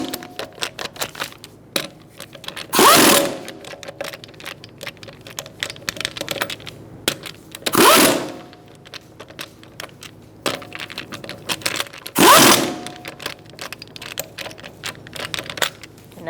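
Lug nuts on a 2012-2018 Ford Focus rear wheel are tightened in a star pattern: three loud, harsh mechanical bursts a few seconds apart, with light clicking and ticking between them.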